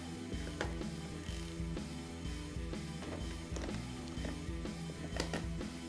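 Two 8mm seat bolts come off a 2002 Suzuki RM250 dirt bike with a ratchet, giving a quick, steady run of fine clicks close at hand under a low background hum.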